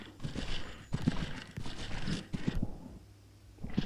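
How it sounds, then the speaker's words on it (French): A horse at a working canter in a show-jumping session produces rhythmic hoofbeats, several clear thuds in a steady three-beat pattern at moderate distance, pausing briefly before resuming near the end. "on va aller au galop de travail"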